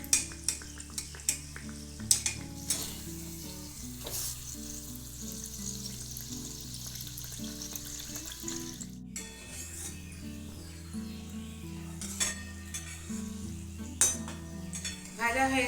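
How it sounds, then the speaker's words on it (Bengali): Gujiya sweets, a Holi treat, frying in lukewarm oil give a soft, steady sizzle with occasional clinks, running under continuous background music. "এখন আমি এটা ভাজবার জন্য দিয়ে দিচ্ছি। এটা কুসুম কুসুম গরম তেলে দিতে হবে"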